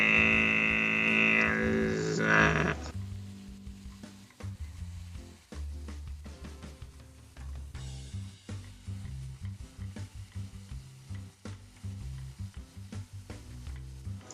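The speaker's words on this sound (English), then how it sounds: "let it sizzle so the juices and the butter can become one" Meat sizzles quietly in butter in a pan while being stirred, with soft scraping and a low musical background underneath.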